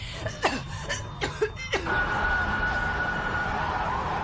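Fire engine sirens wail in the distance with short rising whoops at first, then settle into a sustained steady tone over background traffic noise.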